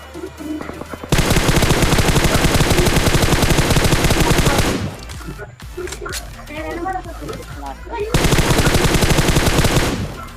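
Rapid automatic gunfire from a mobile shooter game plays loud and continuous in two long bursts, with a busier stretch of mixed game sounds between them.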